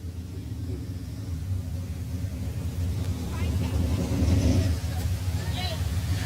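A race car rolls into victory lane at US 36 Raceway in Osborne, Missouri, during the Missouri Nationals. A low engine rumble swells slightly as it approaches, under a commentator's continuous talk.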